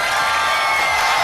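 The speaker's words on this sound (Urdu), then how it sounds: "اگر آپ لوگ ایک بار پھر بھرپور تالیاں بجا دیں" A studio audience claps and cheers on a live Pakistani television show, a dense, loud wash of applause filling the whole moment with no pause.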